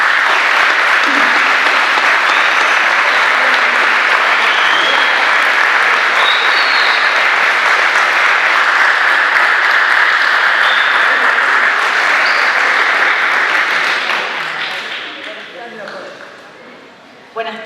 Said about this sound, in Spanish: con un fuerte aplauso la recibimos aquí